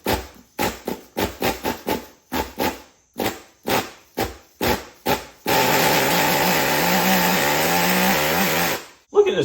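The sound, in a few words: Traxxas T-Maxx 3.3 nitro RC truck engine running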